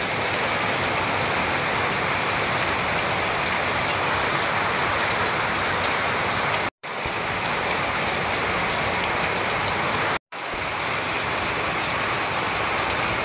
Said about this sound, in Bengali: সকাল থেকে চলছে একভাবে বৃষ্টি।